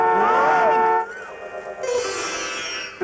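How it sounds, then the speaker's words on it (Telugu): A train horn sounds loud and close in a sustained blast, then fades into quieter, shifting horn tones and rail rumble. "ఇదిగో, హార్న్ కొడుతుంటే వినిపించట్లా?"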